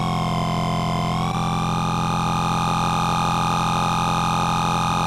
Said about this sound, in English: so we are actually now getting three different tones,